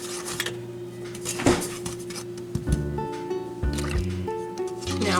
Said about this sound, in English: Now we'll just stay right here with this and stir it for about 3 minutes